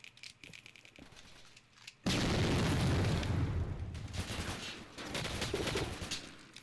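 A bomb goes off in the online shooter Jailbird Remastered, a sudden loud blast that erupts after scattered gunfire and leaves a long, rumbling, crackling roar with further bursts.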